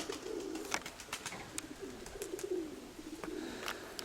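Pigeons coo softly and repeatedly at a distance while being let out of their loft, their low calls rising and falling over a faint outdoor background.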